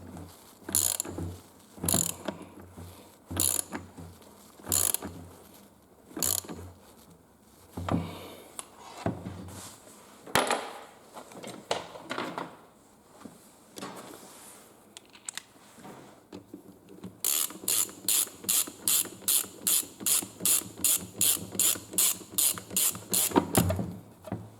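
A ratchet wrench tightens bolts while a JB gearbox is reassembled, giving irregular bursts of clicks at first, then a long fast run of sharp, regular ratcheting clicks, close and loud.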